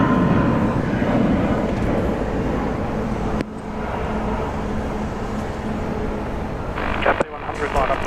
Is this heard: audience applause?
no